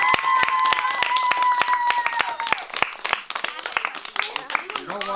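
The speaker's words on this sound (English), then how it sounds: "Let's give Mr. Gisacker an applause for walking that many kilometers" Students at Vimy Ridge Public School clap for a 94-year-old veteran, with sharp, scattered individual claps ringing out unevenly beneath voices talking and calling over them.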